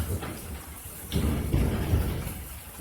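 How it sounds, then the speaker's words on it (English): Steady rain hisses throughout while low thunder rumbles rise and roll beneath it, fairly close and continuous. "hear all that rain and thunder?"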